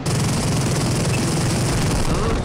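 An explosion in an airplane combat video game gives a loud, dense burst of crackling, rumbling noise that fills the whole short moment without pause.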